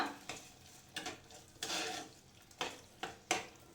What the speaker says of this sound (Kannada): ಹಾಕ್ಕೊಂಡು ಒಂದ್ಸಲಿ ಮಿಕ್ಸ್ ಮಾಡ್ಕೊಳ್ಳಿ